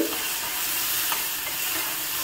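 Food fries in a pan with an even, hissing sizzle that stays steady and fairly close throughout, with only faint stirring ticks and no talk.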